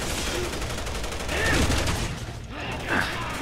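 Bursts of gunfire from the video game Resident Evil 6, rapid shots in a loud volley with a couple of sharper swells, heard under voices talking over the game.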